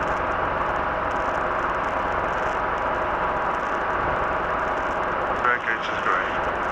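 Robinson R22 helicopter running on the ground at a helicopter parking area with the governor off, its engine and rotor giving a steady, loud, close drone with no letup.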